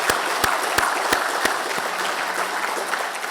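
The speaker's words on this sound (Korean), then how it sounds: "큰 박수로 축복의 박수 부탁드리겠습니다" A church congregation claps to bless its three newest child members, with a few loud, distinct opening claps that blend into steady applause from the full room.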